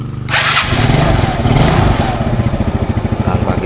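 A motorcycle engine cranks with a brief whir of the starter and catches, then settles into a loud, steady, throbbing idle close by with no talk.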